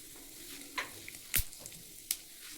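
Panch phoron whole spices frying in a frying pan for stuffed capsicum, giving faint steady sizzle with a few sharp crackles and pops from seeds, no voices.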